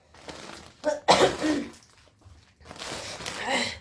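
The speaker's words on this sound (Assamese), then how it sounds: "চৰ্দিও হৈছে কাহ হৈছে" A person coughing in a few short, harsh bursts close by, separated by brief pauses.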